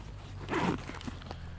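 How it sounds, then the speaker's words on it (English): A YKK zipper on a Vanquest Javelin backpack is pulled open in one quick rasping run, close and fairly loud, followed by faint handling noises. "genuine YKK zippers throughout, as we've come to expect from Vanquest"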